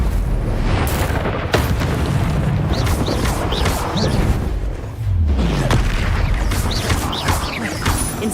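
Incendio fire spells cast repeatedly in Hogwarts Legacy gameplay, loud booming bursts and crackling flame blasts layered over dense, constant game noise with a brief dip midway.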